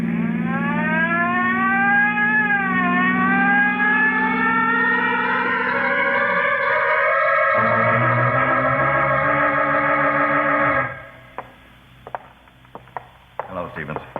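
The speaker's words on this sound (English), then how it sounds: "And use that siren." A wailing siren rises and falls in pitch, loud and steady for about ten seconds, then cuts out, leaving scattered clicks and knocks.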